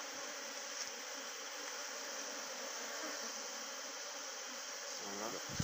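A honeybee colony hums at an apiary hive, a dense, continuous buzz from many bees close by that holds steady throughout, with a faint voice briefly near the end.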